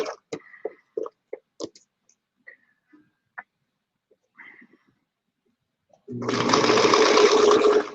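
A Singer Featherweight sewing machine starts up after a few quiet clicks and handling sounds, then runs as a steady close whirring stitch for the last two seconds.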